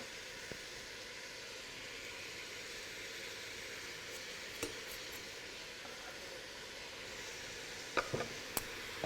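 Garlic fries in a pot of oil with a steady soft sizzle, faint and continuous, with a few light clinks toward the end.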